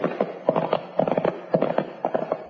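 Studio clip-clop of two horses' hooves in a 1949 Western radio drama, a steady trotting rhythm of paired hollow knocks, close and clear with no voices.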